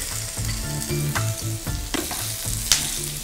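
Cooked potato and carrot with added salt sizzle and are stirred in a pan, with a continuous close frying hiss broken by spoon scrapes and a sharp clink near the end.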